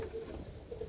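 A roller pigeon hen coos in a low, steady tone, heard close up and fairly quiet over a faint background hum, with no talking.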